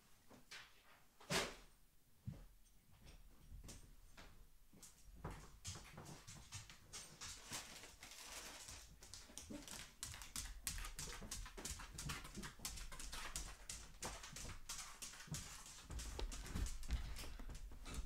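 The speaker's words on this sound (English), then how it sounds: "There's nothing to bark at." A dog whimpers and gives scattered barks through a long stretch of clattering and thumps close by, the sounds irregular and fairly quiet, with no clear speech.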